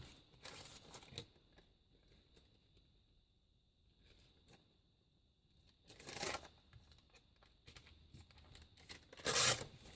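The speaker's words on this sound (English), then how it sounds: "These ones I've just been ripping at my fold mark." Cash register receipt paper being torn by hand along a fold, giving short quiet rips in a mostly still room, with a louder burst of tearing near the end.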